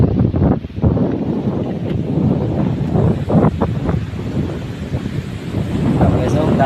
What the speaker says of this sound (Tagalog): Lakas ng hangin dito at sa kamulan.